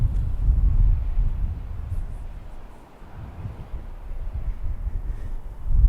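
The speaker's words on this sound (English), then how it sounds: "it's a little windy today" Steady outdoor wind buffeting a microphone, a dense low rumble that swells and dips briefly midway before rising again, with no clear speech.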